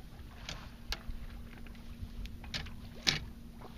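A sailboat moves gently under sail at sea, away from the coast, with soft water lapping against the hull, light wind noise and a few faint knocks and creaks.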